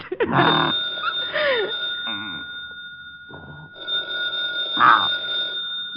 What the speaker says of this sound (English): Rick, the phone's ringing.